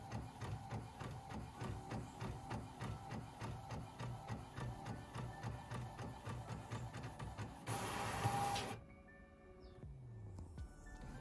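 A sublimation printer prints images onto sublimation paper with a rhythmic, repeating mechanical whir and clack of the print head passing back and forth. A louder feed burst follows, then the printer winds down to quieter motor sounds.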